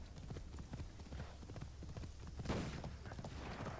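Horse hooves clip-clop steadily in Assassin's Creed Shadows, a quick regular gait sounding close and fairly loud over a soft game background, with a louder burst of noise partway through.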